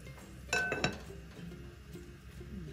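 Two quick clinks of a metal lid set back onto a cooking pot, close and fairly clear, followed by quiet room tone with faint kitchen noise.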